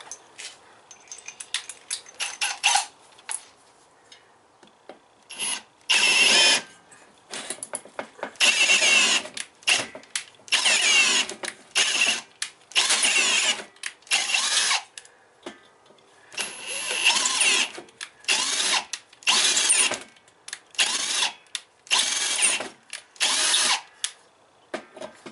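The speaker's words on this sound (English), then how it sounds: "now I can just throw the drill in there. Put the tap in it and clean up" A power drill turning a thread tap to chase a bolt thread whirs in repeated short bursts, stopping and starting, loud and close, with brief gaps of near silence between runs.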